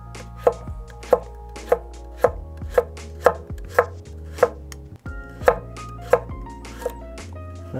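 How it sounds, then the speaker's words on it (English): A nakiri knife chops through carrots on a board in about eleven crisp, evenly spaced strokes, each one a sharp close thud, with quiet pauses between them and no talking. "cut a little bit off so it doesn't roll around so much"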